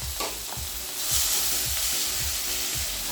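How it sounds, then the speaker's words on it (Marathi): Fenugreek greens sautéed in a pan, a bright steady sizzle with a rhythmic series of soft scraping and thudding stirs, close and fairly loud. "आता मी याला 2-3 मिनिटं भाजी ही परतून घेते"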